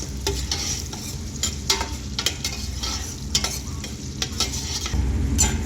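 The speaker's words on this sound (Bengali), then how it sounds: "এখন আমরা দিচ্ছি মিক্স ভেজিটেবল। মিক্স ভেজিটেবলটা দিয়ে দেওয়া হলো" Mixed vegetables stir-fried in a pan with onion and whole spices for chicken biryani: continuous close sizzling broken by repeated spatula scrapes and clinks against the pan, no voices.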